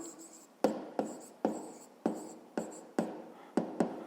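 Handwriting while a 5th-grade maths exercise is worked out, heard as a series of about nine sharp taps and strokes of a pen or chalk at an uneven pace, close and without speech.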